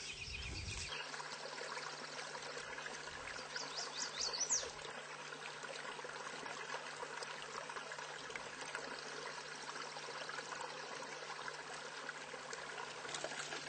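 A small backyard brook trickles over rocks with a steady, soft, continuous babble of running water, close by and uninterrupted.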